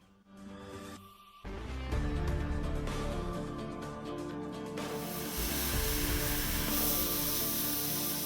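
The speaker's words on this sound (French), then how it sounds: "je vais vous faire avoir la découpe au plasma de ces plaques-là" A plasma cutter slicing 10 mm steel plates starts with a short rising hiss, then roars into a loud, dense, continuous hissing rush that grows brighter partway through and holds steady to the end.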